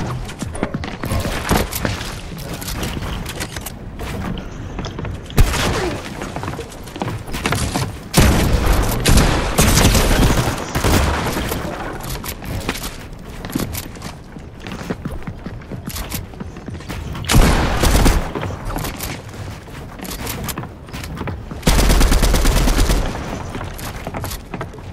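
Rapid, loud gunfire fills a Fortnite match as the Havoc gun fires, with dense sustained bursts and a few heavier booms running almost continuously throughout.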